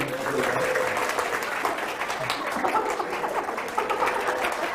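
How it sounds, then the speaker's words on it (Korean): An audience at a Korean-language class session claps in a continuous, moderately loud patter, with voices talking over it. "박수 한번."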